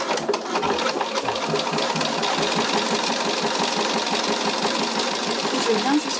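A sewing machine stitches a lining pocket near a zipper on a small pouch, running continuously and loudly with a fast, even mechanical pulse, close by throughout.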